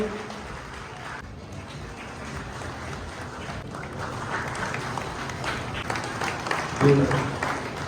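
Crowd applause at a Koli community ceremony in Vanakbara, Diu, honoring students and new doctors; clapping builds through the second half and continues under a speaker's voice.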